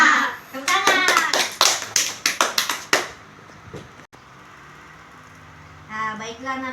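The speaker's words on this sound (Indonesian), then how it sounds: "ayo kita coba tepuk semangat" A class of primary school children claps out a quick rhythmic cheer routine, a burst of about a dozen sharp, close claps in a patterned beat, followed by a quieter room and a short spoken reply.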